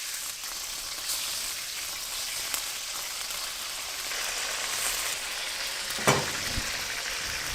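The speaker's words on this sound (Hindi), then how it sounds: "ऑयल गर्म हो गया, अब हम इसमें चिकन शामिल करेंगे।" Chicken pieces frying in hot oil in a karahi, a steady close crackling sizzle throughout, with a brief clatter of stirring near the end.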